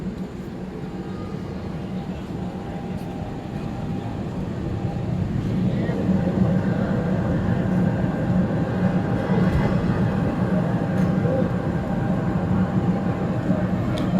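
Jaka Lalana train from Cianjur to Jakarta on its first trial trip, heard from inside a carriage as a steady, loud low rumble that swells slightly partway through and keeps running evenly.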